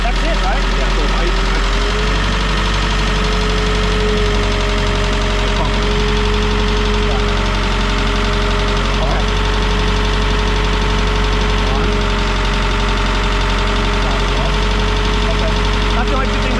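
A Putzmeister TK50 concrete pump engine runs at a steady idle, a loud continuous drone with a sustained hum and faint knocking throughout, while people talk over it.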